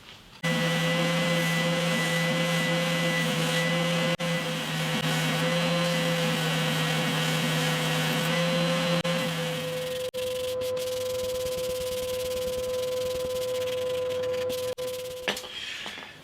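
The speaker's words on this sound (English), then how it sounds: "I've rough sanded the top and I'm happy with the way that that's looking now" A power sander roughs down the top of a hollow body electric jazz bass, a steady droning whine that runs loud and continuous, its pitch shifting partway through before it cuts off.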